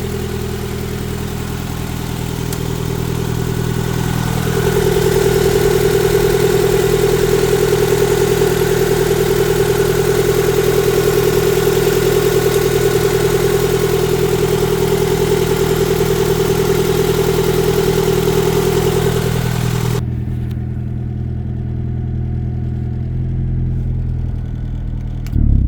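A turbocharged Honda sleeper car engine idles steadily at close range, a sustained low hum with a constant mid-pitched drone for about twenty seconds before the sound cuts to a quieter rumble near the end.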